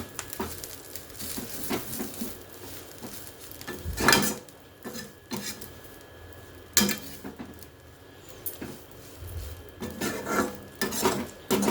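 Drumstick leaves and curry leaves being fried and stirred in a pan with oil for a spicy powder, a spoon scraping in irregular strokes with louder rasping bursts over a soft background sizzle.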